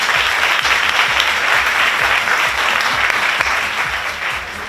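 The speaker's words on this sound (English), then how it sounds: "So I really think that deserves a massive round of applause." Loud, dense applause from the audience at the Miss Glamour 2019 pageant show, a thick continuous clatter of many hands that holds strong and eases slightly toward the end.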